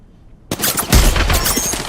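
Rapid gunfire bursts in the video game Apex Legends, loud and close, starting abruptly after a silent half second and continuing densely throughout.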